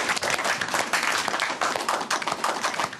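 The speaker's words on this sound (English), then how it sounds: "Applause." Classroom applause for students Hannah and Emma, a dense patter of many hands clapping steadily and fairly close, running through the whole stretch without a break.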